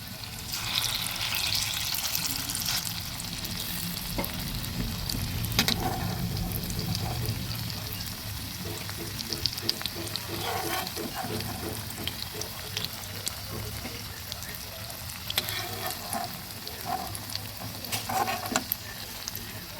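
A second batch of banana flower pakoras fries in oil, a constant bubbling sizzle with occasional clinks of utensils.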